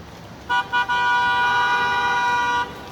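A loud, steady horn blast preceded by two short toots, sounding close and sustained for about two seconds before cutting off.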